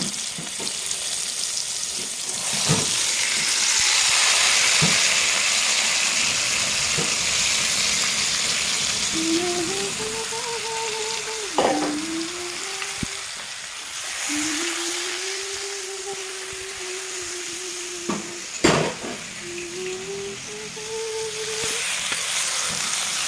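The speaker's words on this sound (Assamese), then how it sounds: "এতিয়া কঁঠাল ভাজিব" Jackfruit pieces fry in oil in a wok (kerahi) for a jackfruit curry made without onion or garlic, giving a steady sizzle with occasional sharp knocks and a few rising whistling tones partway through.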